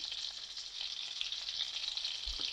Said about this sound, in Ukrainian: внутрішня вирізка смажиться, як і куряче філе, дуже швидко